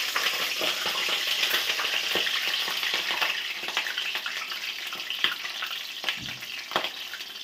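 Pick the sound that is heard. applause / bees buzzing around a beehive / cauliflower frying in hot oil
cauliflower frying in hot oil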